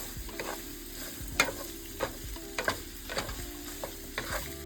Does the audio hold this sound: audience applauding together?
no